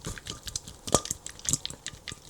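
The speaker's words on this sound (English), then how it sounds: "I'm going to drain out the water first." Water dripping and splashing in small irregular spatters as it drains from a bag of shrimp into a kitchen sink, with one sharper splash midway; fairly close, no talk.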